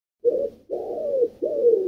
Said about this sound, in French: Tout à fait, c'est un pigeon.